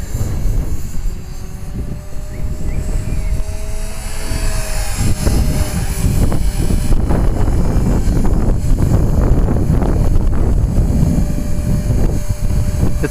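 A 450-size model helicopter's steady high whine and rotor buzz holds close and loud throughout, with gusty wind noise underneath.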